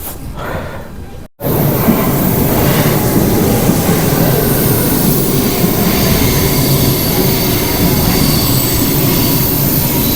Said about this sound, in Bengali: এটা হলো রাশিয়ার কমিউটার ট্রেন, মানে মেট্রোর থেকে আরেকটু লেভেল আপগ্রেড আর কি।